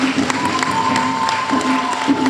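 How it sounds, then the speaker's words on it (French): An audience at a gathering of the Lokpa community applauds with busy clapping and crowd noise, and a steady pitched tone and chatter run underneath. "Applaudissez-vous."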